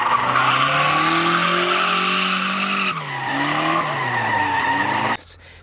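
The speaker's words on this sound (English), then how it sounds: "Smokes tires, and that's what I love about it." A turbocharged Mazda Miata squeals its tires under power while drifting, a loud sustained screech over engine roar that shifts pitch partway through and cuts off abruptly near the end.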